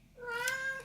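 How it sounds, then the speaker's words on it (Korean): One short, clear meow from a nearby cat in heat, rising then trailing off. "그 다음에 지금 고양이가 우는 소리는 저희 고양이가 지금"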